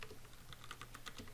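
Quick, light keystrokes on a computer keyboard as commands go into a Git bash window, an irregular run of soft clicks, close but quiet, with no voices.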